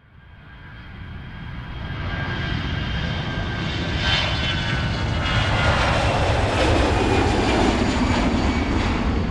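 Jet airliner engines roar steadily on a Southwest flight climbing out of Las Vegas, swelling from a quieter start into a loud, broad, sustained rumble with a higher whine on top, heard from inside or near the aircraft with no talk.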